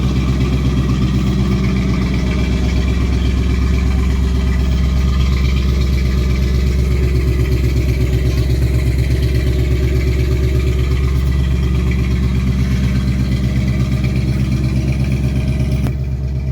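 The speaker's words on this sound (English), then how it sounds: "That's the stock exhaust, stock muffler, stock everything." A 2019 Ford Mustang GT with stock exhaust and mufflers rumbles close by, its deep V8 tone swelling and easing in slow revs over a steady idle.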